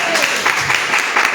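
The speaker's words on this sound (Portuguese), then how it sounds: "Dá uma salva de palmas." Church congregation clapping during a live worship service, a short steady burst of applause with a voice mixed in.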